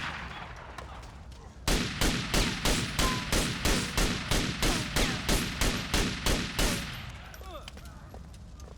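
A steady run of about fifteen loud, evenly spaced shots rattles out in GTA Vice City, hammering for roughly five seconds before giving way to a quieter scene with faint noise behind.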